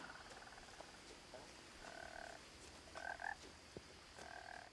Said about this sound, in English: Croaky frog.